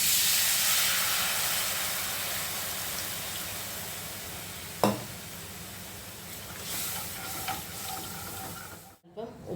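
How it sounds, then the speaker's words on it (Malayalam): Squeezed tamarind juice hits hot fried coriander and chilli in a pan, bursting into a sharp sizzle and hiss that slowly settles into a softer bubbling simmer, fairly close, with faint voices in the background. "അതിലേക്ക് പുളി പിഴിഞ്ഞ് ഒഴിക്കാം"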